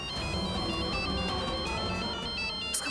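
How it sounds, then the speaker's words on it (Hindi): A phone ringtone chimes in a steady repeating electronic pattern for about three seconds over a dramatic background score in a Hindi TV serial scene. "उसका फोन आया।"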